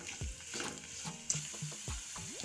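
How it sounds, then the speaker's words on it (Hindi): Finely chopped garlic and onion frying in a pan for masala fried idli, a close sizzle broken by several quick stirring scrapes and knocks at an uneven rhythm, fairly quiet, with no voices. "कटा हुआ प्याज भी ऐड कर देंगे और इन सबको भून लेंगे।"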